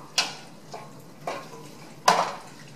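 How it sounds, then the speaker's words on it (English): A spoon scrapes through a pot of posole just after canned hominy goes in, giving four separate clanking stirs spaced about half a second to a second apart, close and moderately loud, with no talking. "So give it a good stir after you add those."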